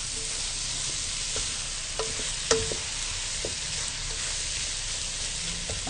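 Dry, spiced vegetable samosa filling being stirred in a pan, a soft continuous scraping and faint sizzle with a few light clicks of the spoon, no voices.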